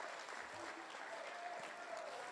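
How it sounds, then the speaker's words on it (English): An audience at a university athletics hall of fame ceremony applauds steadily, a dense, even wash of clapping that holds at moderate loudness throughout. "Chris James, give him a round of applause on the board."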